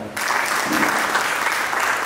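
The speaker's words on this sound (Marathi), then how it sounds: "एका जोरदार टाळ्या वाजवा" An audience at a school reunion gathering applauds with loud, steady clapping that starts abruptly and carries on evenly throughout.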